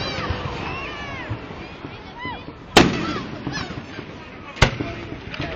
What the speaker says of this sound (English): I'm just trying to follow our fireworks